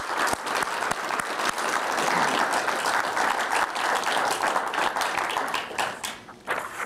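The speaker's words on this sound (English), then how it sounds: "So I'd like to have a round of applause for Todd." An audience at a humanitarian awards ceremony gives a full round of applause, with dense, steady clapping throughout that thins slightly near the end.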